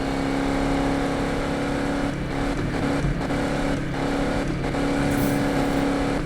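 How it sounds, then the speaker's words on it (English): A car in Need for Speed (2015) drives steadily with a constant engine drone and a faint high differential whine, a continuous loud mechanical hum without breaks. "You hear a bit of differential whine or something."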